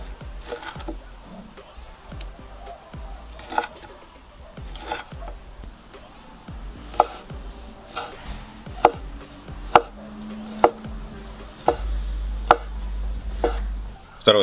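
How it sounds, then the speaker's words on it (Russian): Knife chopping on a cutting board as sausage is sliced into thin strips for a cabbage salad, giving sharp, irregular knocks that speed into a steadier rhythm near the end, close and fairly loud. "Колбасу буду нарезать соломкой."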